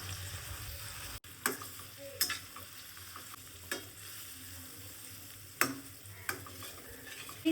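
Sliced tomatoes sautéing in a pan for shrimp pasta, a steady low sizzle with a few sharp clicks and scrapes of stirring scattered throughout, close and moderately quiet.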